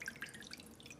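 Water trickles and splashes into a pot to start a sugar syrup for candied oranges, a quiet bright burble of pouring water up close.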